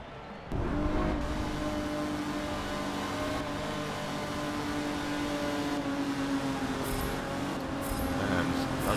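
Race cars in Forza Motorsport 7 on a well-lit track at night, engines droning and whirring steadily at the start of the race, loud and continuous throughout.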